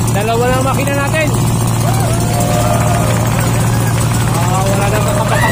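A small fishing boat out on the water for hand-line fishing, running on two engines; a loud, continuous motor drone runs throughout while people talk over it.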